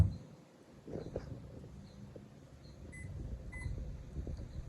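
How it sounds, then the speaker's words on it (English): A steady low microwave hum runs throughout, with a few soft beeps and light clicks over the drone. "they're ready to go to the microwave. And you put them in for 2 minutes."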